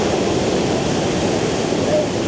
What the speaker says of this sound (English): I now understand why they call it one of the world's most powerful waterfalls.